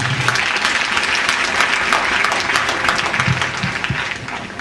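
A church congregation applauds the Lord in loud, continuous massed clapping that fills the space, with a few cheers and voices rising within it and a slight fade toward the end.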